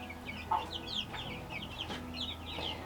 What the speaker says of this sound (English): Now we're getting pretty chickens.